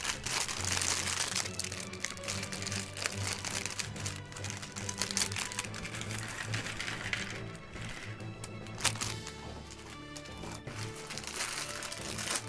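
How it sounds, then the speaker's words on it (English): Plastic bag crinkled and crushed by hand, a dense, continuous rustling and crackling texture that runs the whole time with scattered sharper crackles, close and fairly loud, with no talking. "Welcome to the plastic bag ASMR stream."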